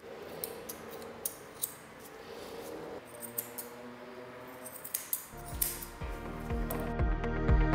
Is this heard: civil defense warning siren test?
no